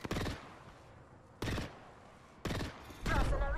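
Apex Legends gunfire: three short, loud bursts of rapid shots separated by brief pauses, followed by a longer burst at the end, close and punchy with game voice lines around them.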